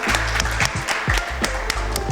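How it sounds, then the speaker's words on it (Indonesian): Church audience applauding at an evangelical show, dense ongoing clapping mixed with rhythmic thuds of music, short burst heard close and fairly loud. "Berikan tepuk tangan meriah buat Tuhan dan Aan."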